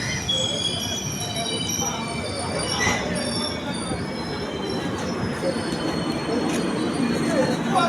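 A passenger train arriving at a station from the Lucknow or Gorakhpur direction: steady loud rumble of rolling carriages with squealing wheel tones and metallic rail noise throughout, with faint voices in the background.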